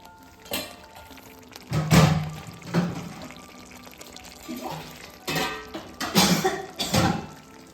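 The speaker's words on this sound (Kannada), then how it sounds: "ನಾನೀಗ ಇದಕ್ಕೆ ನೀರು ಹಾಕ್ಕೊತೀನಿ" Water splashes into a pot of tomato sambar in a few short pours separated by pauses, with some rough bursts and light clatter close by.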